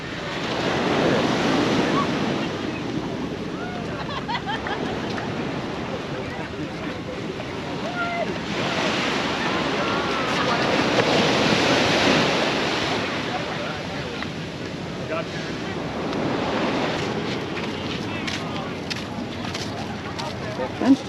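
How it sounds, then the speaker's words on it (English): Ocean waves break and wash up on the shore at Manhattan Beach, California, a steady roar that swells and recedes in slow surges, with wind buffeting the microphone. "watch the waves"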